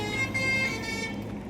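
A car horn on a road sounds as one sustained, faint tone for about a second before fading out under light traffic noise.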